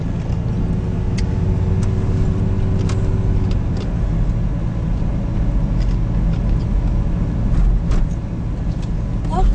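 A car drives through town streets from 4th Street toward Wall Street on the way into Beardstown along Route 67. A steady, close engine and road rumble runs throughout, with a little faint background noise.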